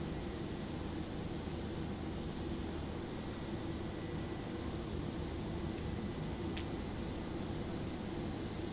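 A Pilatus PC-12 taxiing in Microsoft Flight Simulator 2024 gives a steady, unchanging turboprop engine drone with a constant airy hiss throughout.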